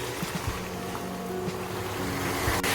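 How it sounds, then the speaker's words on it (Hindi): Chicken frying in a karahi for Shinwari chicken karahi gives a constant dense sizzle and hiss, broken by a few soft clanks and stirring knocks, with no voices. "तकरीबन हमने 10 मिनट तक इसको फ्राई करना है चिकन को।"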